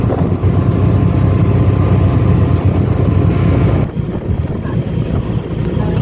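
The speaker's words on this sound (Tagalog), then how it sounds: "Hangin." Wind on a ship near Batangas Port, a loud continuous rushing roar buffeting the microphone that drops abruptly partway through, then continues more softly.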